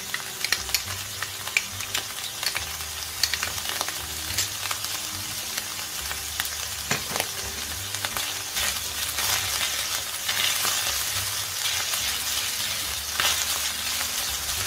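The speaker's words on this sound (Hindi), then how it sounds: "अब मैंने इसको अच्छी तरह से भूनना है मीडियम आंच पे" Minced meat with ginger paste fries on medium heat, sizzling steadily up close with occasional stirring scrapes and clinks.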